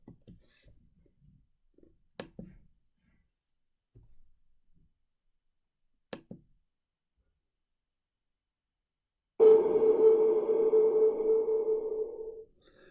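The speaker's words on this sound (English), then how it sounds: "So you should have heard quite an echoey sound there." Short sharp clicks and taps ring out with long echoing tails from a 3-second impulse response reverb in the Web Audio API, separated by silence, followed by a sustained droning tone that swells and lingers.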